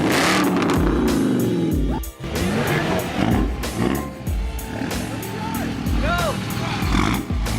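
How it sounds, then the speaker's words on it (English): A car engine revs at a car meet, several loud rising and falling bursts of throttle standing out against a busy crowd, with people chatting nearby throughout. "Hey, give it a rev. Give it a rev."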